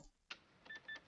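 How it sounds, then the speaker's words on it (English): An old cash register gives a sharp mechanical ding followed by two quick bell-like rings, faint and close, with no talk over it. "The old cash registers."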